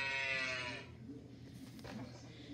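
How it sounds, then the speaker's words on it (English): A cow's drawn-out moo on a farm rings clearly for under a second, then fades into a low outdoor rumble. "A cow comes in the field at the milking time."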